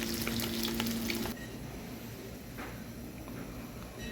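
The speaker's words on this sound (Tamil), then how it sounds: "லைட்டாக ஃப்ரை பண்ணி எடுத்தால் போதும் மட்டன் நல்லா ஃப்ரை ஆகிட்டு" Mutton frying in hot oil in a pan, a steady crackling sizzle; a loud burst with a clear tonal whine opens, then settles into a quieter continuous fry with scattered pops.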